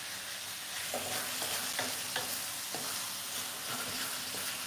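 Savory minced pork filling for Thai khanom thian is stir-fried in a pan, with a steady sizzle and repeated scraping strokes of the spatula at an uneven rhythm, fairly quiet and close.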